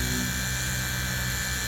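A Flex PXE80 polisher runs on car paint with a DIY waffle pad, giving a steady, even mechanical whir that holds constant throughout, fairly close and alone.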